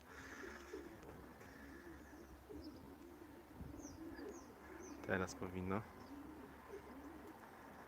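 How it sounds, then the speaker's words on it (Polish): Pigeons coo outdoors in a soft, low, rhythmic phrase that grows louder briefly before fading, with faint chirps around it and a person speaking. "O, tam w oddali nawet latają, widać gołębie latające."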